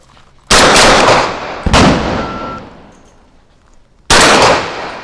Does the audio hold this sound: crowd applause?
no